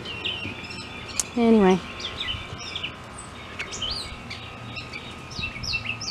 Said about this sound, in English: I hear all the birds.